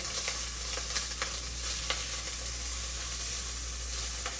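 Pancetta frying over high heat in a dry pan, a soft, steady sizzle and hiss with a few faint pops and scrapes, close but fairly quiet, with no voices.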